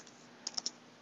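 Three quick keyboard clicks land close together while typing a command, crisp and close against a quiet background hum.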